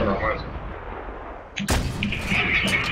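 Loud, sudden blast of a tank gun firing in a World of Tanks Stronghold Skirmish match, a broadband boom at mid-clip standing out over steady engine rumble and game ambience.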